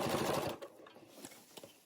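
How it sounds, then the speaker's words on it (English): Sewing machine stitching around the binding of a quilted fabric basket, a fast continuous mechanical whir that is loud at first, then quieter, broken stitching bursts. "We're going to sew all the way around"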